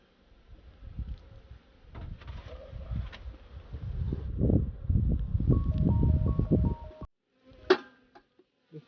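Honeybees buzz close around an open hive during a honey harvest in Jamaica, a low swarming drone that swells and thickens for several seconds, then cuts off abruptly, leaving a few faint scattered sounds.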